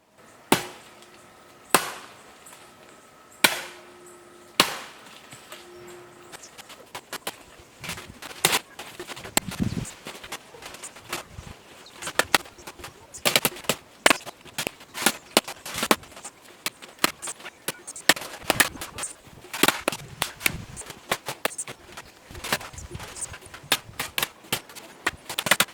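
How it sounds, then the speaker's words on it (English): A machete chops down a cocoa tree with sharp, irregular whacks. A few widely spaced blows open the sequence, then dense rapid hacking with rustling follows, all close and without talk. "Hey, why don't I cut it down with a machete now?"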